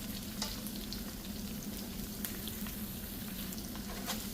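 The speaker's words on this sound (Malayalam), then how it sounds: "ഇനി നമുക്കിതിലേക്ക് സവാള ഇട്ട് കൊടുക്കാം" Onions and green chillies sautéing in a pan for tomato rice, a dense, continuous close sizzle with light stirring clicks throughout and no voices.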